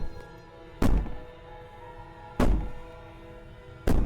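Three heavy thuds bang against a wall in Slay the Princess, spaced about a second and a half apart, each a loud, deep knock over a quiet background.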